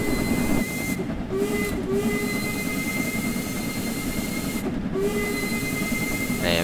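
Steam locomotive whistle in Train Sim World 2 on the Liverpool–Crewe route, sounding in several short blasts against a steady background of rolling train noise and hiss, loud and close.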